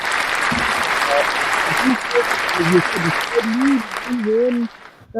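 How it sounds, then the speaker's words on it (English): A canned applause effect plays as steady clapping from a crowd, with voices talking over it before it cuts off abruptly near the end. "Run applause, Conan O'Brien."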